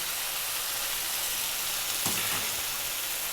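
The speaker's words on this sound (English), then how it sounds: "Now, we're going to add our stock." Spicy brisket cooking stock is poured into a hot pan with beef brisket, giving a steady broad sizzle and hiss with a slight surge midway, close and moderately loud, no voices.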